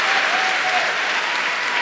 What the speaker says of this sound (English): I should get some applause for that, right?